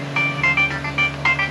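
A phone rings in a workshop during a Mercedes 722.118 automatic transmission rebuild, with several short repeated electronic trill bursts over a low steady hum.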